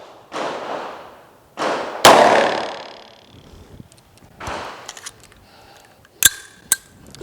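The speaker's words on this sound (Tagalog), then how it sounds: "we will be using Magtech FMJ 44 Magnum 240 grain projectile. So let's go. Firing!" A Magtech FMJ .44 Magnum 240-grain round is fired at Level IIIA body armor. Several hard, close bangs and thuds stand out, led by one loud, sharp report with a ringing decay, and smaller clicks and knocks follow.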